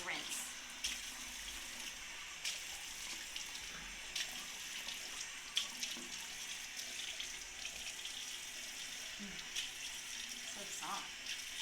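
Tap water runs steadily into a sink while face wash is rinsed off, a faint continuous splashing hiss with small irregular splashes throughout and no talk.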